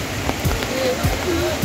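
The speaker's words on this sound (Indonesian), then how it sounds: "kondisi cuaca hujan" Steady rain falling outdoors at a lakeside tourist area with a swimming pool and restaurant in Majalengka, West Java, a broad continuous wash with scattered drop hits, heard while someone walks.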